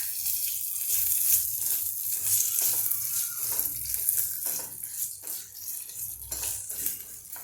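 Poppy seeds sizzling in hot oil in a pan with roasted peanuts and cashews, the heat just switched off: a steady, close hiss and crackle with faint stirring scrapes, no voices.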